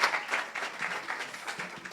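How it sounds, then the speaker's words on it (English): Audience applause, a steady patter of many hands clapping at moderate volume, heard alone. "A round of applause."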